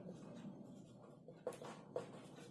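Faint scratching of a teacher writing during a physics lesson on capacitors, quiet strokes with two brief sharper taps, no voice.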